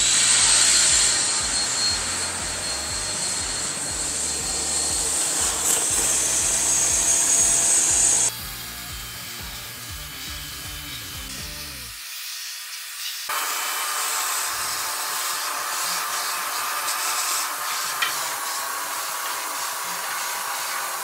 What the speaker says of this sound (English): use my shop vac to pump the rest of this coolant out